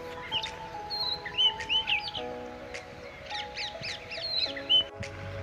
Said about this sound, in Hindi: पर देखिए खूबसूरत पक्षी